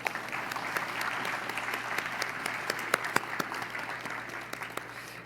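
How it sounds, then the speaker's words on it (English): An audience applauds at the 2024 INFORMS Awards Ceremony, honoring newly elected fellows, with sustained moderate clapping from a crowd indoors, individual sharper claps standing out, and no talk. "Now you can clap with me"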